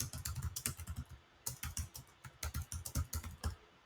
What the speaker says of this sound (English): Whoops, if I can type.